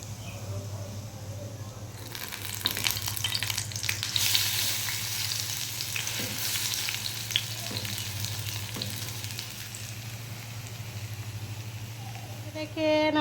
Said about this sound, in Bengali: ধনে পাতা দিয়ে ডালের বড়াগুলো করে নিব